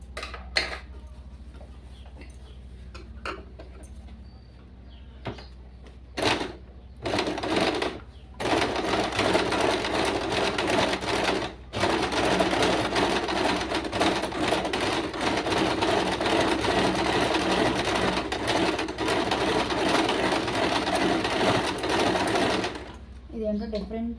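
Domestic sewing machine stitching a seam from the back in short bursts, then one long steady whirring run, with a person talking between the bursts.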